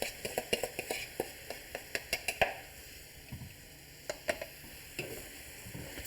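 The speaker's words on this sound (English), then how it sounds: "Now we're just going to stir this around to let it thicken up a little bit" A spatula stirs a thickening, sugary Mongolian beef sauce in a hot pan, giving a steady run of close scraping taps and clicks over a constant sizzle, with a few quieter pauses.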